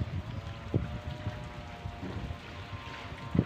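Gusty rain and wind lash a seaside spot during a typhoon, a steady dense hiss of rainfall with rumbling wind buffeting the microphone and a few louder gust thumps.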